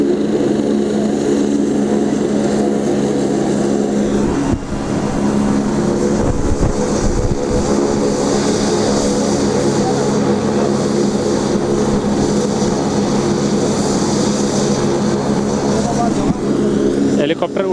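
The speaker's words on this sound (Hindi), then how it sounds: "और हेलीपैड से हेलीकॉप्टर अब आप देख रहे हैं उड़ान भर रहा है।" A helicopter's loud, continuous engine roar and rotor drone as it takes off from a helipad in Ratangarh, Rajasthan, at a political rally, steady throughout, with someone talking over it.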